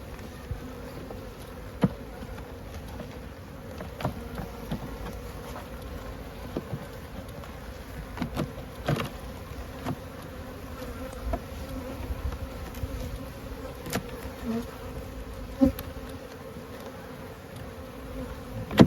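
Honeybees hum steadily inside an open hive during spring colony inspection, a constant close buzz with occasional louder passes of individual bees near the hive, no voices.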